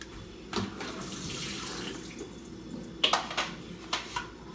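Tap water runs steadily into a sink as vegetables are rinsed, with a few sharper splashes and knocks near the end, all close and moderately loud.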